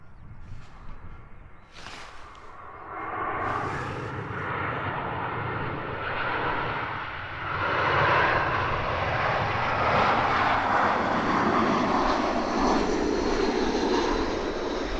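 A Lufthansa airliner arriving from Munich at Edinburgh Airport, its engine roar swelling from a faint start into a loud, sustained rumble that keeps building toward the end.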